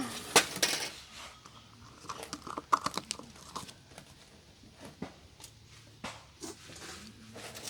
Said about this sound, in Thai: จากนั้นก็คือ ปิดฝาเลยค่ะ